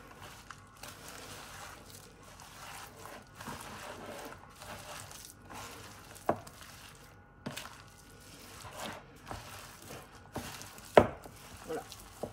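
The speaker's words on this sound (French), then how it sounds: "Et je viens mélanger le tout." Meat stuffing being mixed with chopped parsley for stuffed peppers, onions and tomatoes, giving soft irregular squishing and thudding strokes, close and fairly quiet, with a few sharper knocks against the bowl.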